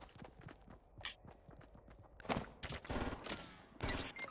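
Bursts of gunfire in Fortnite, rapid cracking shots in clustered volleys with footsteps between them, fairly close and loud, with several intense flurries in the second half.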